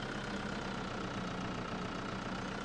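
A tractor engine idles in Farming Simulator 2013, a steady, low, continuous rumble with a faint tonal hum, constant in level and unbroken by voices.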